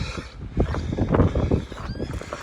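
An unidentified bird calls repeatedly on an open hillside walk among sheep, a series of short, fairly loud cries over steady outdoor background noise.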